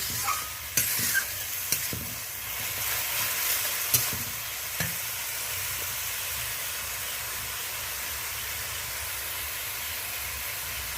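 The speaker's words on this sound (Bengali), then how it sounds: "সমস্ত কিছু মশলা একসাথে আমি ভালো করে মিশিয়ে নিচ্ছি।" Spices and grated tomato stirred together in a hot pan for a sole fish kalia, a steady close sizzle with a few sharp spoon scrapes and clicks near the start, no voices.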